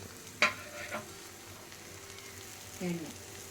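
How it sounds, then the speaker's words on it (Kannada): Bangda mackerel frying slowly on a tawa: a quiet, low sizzle broken by a sharp clack near the start and a couple of soft scraping or setting-down sounds later. "ತವಾ ಮೇಲೆ ತವಾ ಮೇಲೆ ನಿಧಾನಕ್ಕೆ ಹಾಕಿ ಫ್ರೆಂಡ್ಸ್ ಬಾಂಗ್ಡಾ ಫ್ರೈ"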